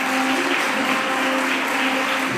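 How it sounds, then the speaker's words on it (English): A school audience applauds the 2022 Year 13 graduates at a graduation ceremony, a loud, continuous wash of clapping that stays even throughout, with a faint steady tone running beneath it. "Let's give a big round of applause to our 2022 Year 13 graduates."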